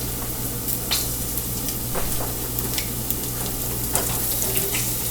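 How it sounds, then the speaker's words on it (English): Eggs bubble and sizzle steadily in a frying pan while a breakfast bowl is cooked, a dense, even crackle with scattered sharper pops, close and continuous, with no voices. "My eggs appear to be bubbling, so this means it's time for me to start shifting and moving them around"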